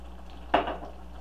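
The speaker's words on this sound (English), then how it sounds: "So you want to put water in there to that amount, just to get all that stuff off the bottom." Water poured into a hot pan to lift the browned bits off the bottom while making lasagna gives one short, sharp sizzling hiss that fades quickly over a quiet kitchen background.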